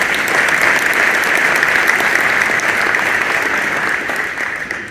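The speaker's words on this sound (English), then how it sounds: "So let's give them a round of applause for that." An audience applauds at a mayors' power breakfast, a dense, even round of clapping that holds steady throughout and tapers slightly at the end.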